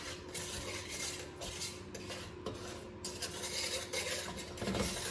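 Flour being mixed for chocolate gravy in a skillet, a continuous close scraping and rasping of a utensil against the pan with light metallic clinks, no voices.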